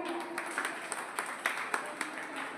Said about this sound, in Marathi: सर्वांसाठी जोरदार टाळ्या